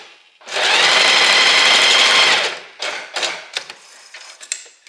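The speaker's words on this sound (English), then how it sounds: "now I'm just going to sew those two pieces here together" A sewing machine stitches two pieces of fabric together for a wrap dress, running in one loud, steady whir for about two seconds, then falling into short, stop-start bursts as the seam is guided.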